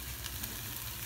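Garlic sizzling in a hot pan as it starts to sauté before okra goes in, a steady soft frying hiss with faint stirring, close and alone.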